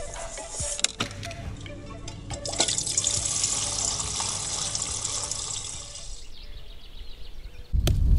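Running water splashes steadily as dishes are rinsed outdoors at a rural Ukrainian farmstead, with clinks and knocks of crockery and a sudden louder gush at the end.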